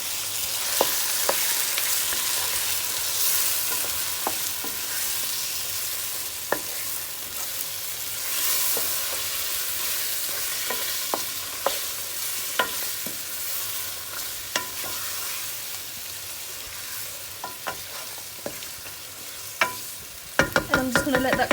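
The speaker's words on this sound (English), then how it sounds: "Give it a little stir." Mutton sizzles continuously in a pan while a spoon scrapes and taps through it at irregular intervals, ending with a brief flurry of clatter.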